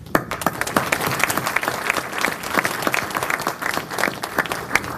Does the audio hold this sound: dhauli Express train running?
no